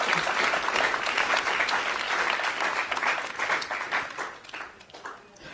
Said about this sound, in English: Please, one more final round of applause to all the participants.